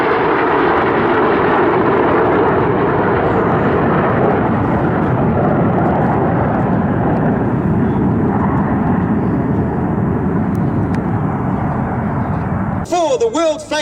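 Red Arrows jets fly a display at the Duxford D-Day 80 air show in 2024, a loud, broad, sustained roar that fills the whole stretch and barely fades before a brief tonal burst at the end.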